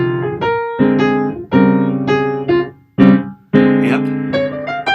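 A guitar plays a series of phrases rooted in the blues scale that shift briefly into another scale and then return, with clear, ringing sustained notes separated by short gaps.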